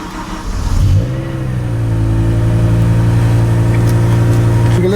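A BMW M6 with a V10 engine cranks briefly, catches with a sharp rev flare, then settles into a loud, steady, rumbling idle close to the microphone.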